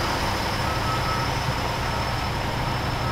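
A truck at a snow-clearing site where a loader works rumbles steadily under a thin, continuous high tone that fits a reversing alarm, loud and close with constant engine noise throughout.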